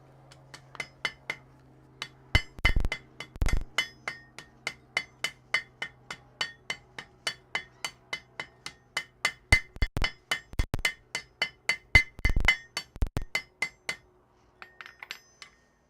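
Hammer blows on hot metal at a blacksmith's anvil for a forge weld, a long run of sharp ringing strikes in quick steady rhythm, close and loud, with a few heavier thuds and a brief pause partway through.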